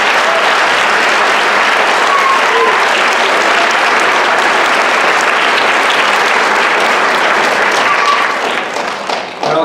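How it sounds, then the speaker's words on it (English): An assembly crowd gives the girls soccer team a round of applause, a loud sustained wash of clapping from many hands that holds steady for several seconds and then begins to thin at the end. "So a round of applause for the girls soccer team."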